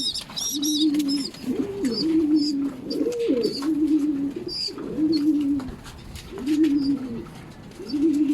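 Racing pigeons coo repeatedly after returning to their loft. The deep throaty calls come close and clear in rolling bursts, with a few higher chirps above them.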